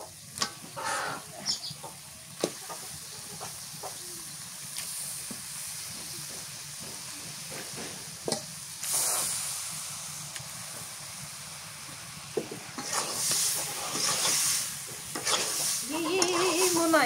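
Layer chicken meat goes into cooked spice paste, giving bursts of hissing sizzle and scraping stirs with a few knocks against the pot, strongest near the end, over a quiet room.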